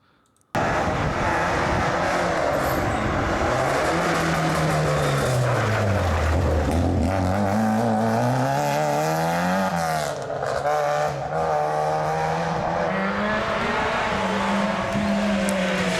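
A Skoda Fabia rally car engine roars past on a French rally stage, loud and close, with revs climbing, dipping and rising again through gear changes over a sustained, harsh exhaust note.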